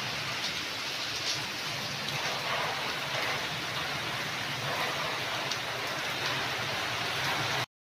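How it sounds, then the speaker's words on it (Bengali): Steady, dense downpour of heavy rain during Cyclone Remal, a constant hiss with drops pattering on surfaces, continuous throughout with no voices. "আর এই দেখো কত বৃষ্টি হচ্ছে"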